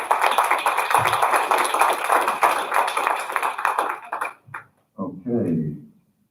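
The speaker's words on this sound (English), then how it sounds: "we need to give her another round of applause" Sustained applause from a crowd at a board of directors workshop fills the first four seconds, then fades out, followed by a few brief spoken words.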